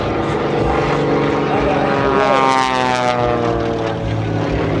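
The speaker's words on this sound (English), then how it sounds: "Hear that 450 horsepower crack with the engine go" A 450-horsepower aerobatic propeller plane's engine roars steadily and loudly at an air show, its pitch shifting as it manoeuvres, with a voice talking over it throughout.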